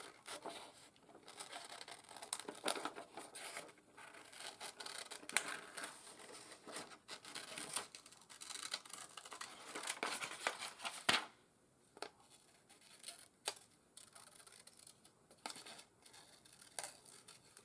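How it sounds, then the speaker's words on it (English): Big scissors snipping through paper die cuts in a crafting session, a run of close crisp cuts and crinkly rustles with brief pauses between strokes. "I'm using my big scissors here."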